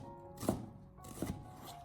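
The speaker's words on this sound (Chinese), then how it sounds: "最后再把它改刀切成洋葱丝" A knife cuts a fresh onion into strips on a cutting board, two distinct, soft chopping thuds about a second apart, close and quiet, with no voices.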